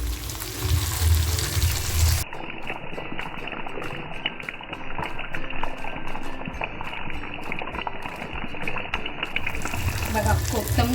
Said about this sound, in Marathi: आता जो हा टेचा केलाय आहे आम्ही तेलात टाकते आहे